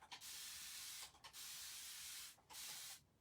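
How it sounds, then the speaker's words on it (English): Liquid sprays in three long hissing bursts with short pauses between them onto a wooden bird cutout during a paint-finishing job, close and steady, with no talking. "So we're going to just spray this on here and let it sit for a second."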